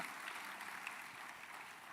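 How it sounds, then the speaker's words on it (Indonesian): A church congregation applauds during a sermon, a faint, distant, even wash of clapping from a large room. "tepuk tangannya yang meriah buat Tuhan kita"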